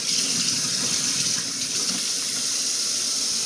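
Cornish hens washed under a running kitchen tap, a steady loud rush of water splashing into a sink, close and continuous with no talking.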